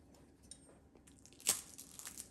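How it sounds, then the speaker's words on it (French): A single sharp crunch of crispy fish-filled pastry being cut, close up, with faint crackles after it against a quiet background. "vous entendez, ça croustille bien."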